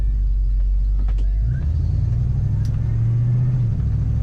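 The engine of a 1973 Ford Mustang Mach 1 fastback with automatic transmission rumbles low and close, with a deep rev rising briefly before settling back to a steady idle-like drone.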